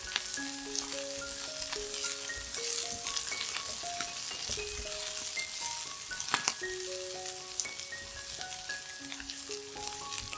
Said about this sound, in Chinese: 当马铃薯的表面呈现出金黄色的时候，放入灯笼椒，炒一炒。